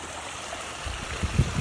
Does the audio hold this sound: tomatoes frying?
no